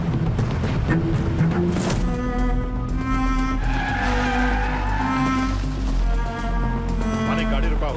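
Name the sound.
jeep driving and braking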